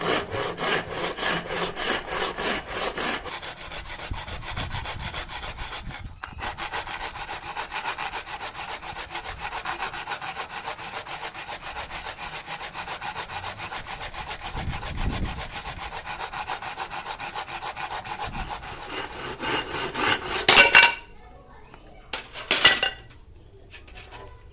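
A hand saw cuts through wood for a hammer handle in fast, steady back-and-forth strokes that rasp loudly for about twenty seconds. Brief pauses follow, along with a few final scraping strokes and clatters.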